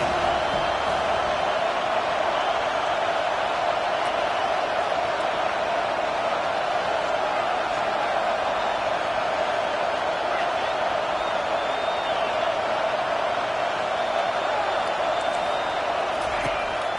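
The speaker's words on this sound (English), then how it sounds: "Here comes this home crowd" Home crowd at a football game as the defense faces third down, a steady, loud stadium roar that holds evenly throughout with no clear peaks.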